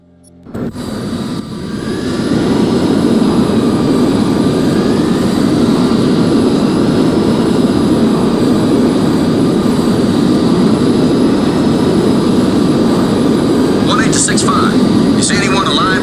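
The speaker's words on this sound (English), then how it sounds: "Nomad, we have a VTOL extracting wounded" A VTOL aircraft's engines roar in the video game Crysis Remastered, a loud, steady, close jet-and-rotor wash that swells up within the first couple of seconds and holds, with faint chirps near the end.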